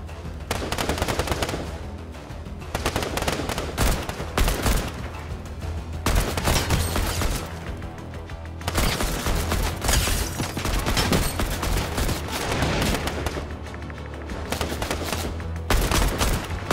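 Sustained gunfire in a Fortnite squad match, dense rapid bursts and machine-gun rattles rolling continuously for many seconds, loud and close with only brief dips in intensity.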